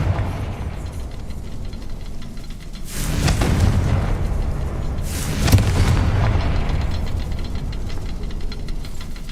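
Confringo spell blasts in the video game Hogwarts Legacy, two heavy booming explosions a few seconds apart over a constant loud rumbling game backdrop.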